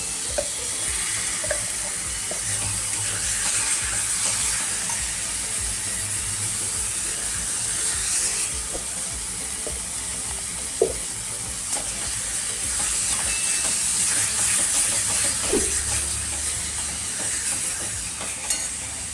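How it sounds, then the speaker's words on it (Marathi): Spiced ground vatan paste sizzles and fries in a pan with tomato for a spicy brinjal curry, a steady close crackling hiss with occasional stirring scrapes throughout, no voices. "हे आता आपण केलेलं वाटण त्यामध्ये परतून घेऊया"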